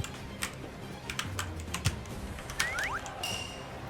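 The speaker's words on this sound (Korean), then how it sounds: "키보드 부수면 게임 못하잖아" A computer keyboard is struck hard and fast during a gaming match, with sharp, uneven clacks bursting in clusters, plus a brief low thud and a few electronic chirps from the game.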